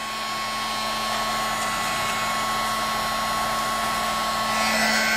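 A handheld heat tool melts embossing powder into a thick layer, giving off a steady, loud blowing whir with a constant hum that runs unbroken and alone throughout.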